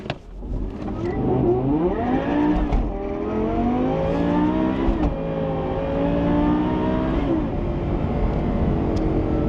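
A boosted V10 Lamborghini Gallardo launches hard, its engine revving high and climbing through several quick gear changes, loud and continuous.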